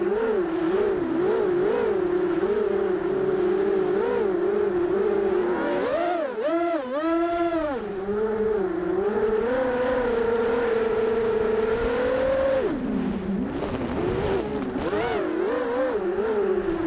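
Quadcopter in flight on T-Motor F40 2500KV motors, bumblebee frame and 5045 bullnose props, giving a loud continuous whine whose pitch swoops up and down with throttle bursts, heard alone and steady throughout.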